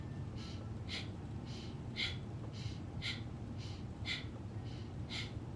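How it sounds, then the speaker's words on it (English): Breath of fire: rapid, forceful breathing in and out through the nose, close and fairly quiet, repeating at about two sharp huffs per second in a steady rhythm for several seconds, with no talking. "breathing breath of fire in through the nose and out very rapidly"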